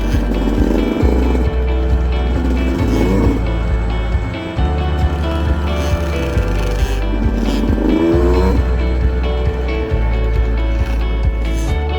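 A small motorcycle rides along outdoors in Colombia, its engine droning steadily with shifting revs and gear changes, close and fairly loud, plus some wind buffeting and no talk.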